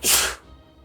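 A single sharp sneeze bursts out, loud and close, then fades into quiet room tone.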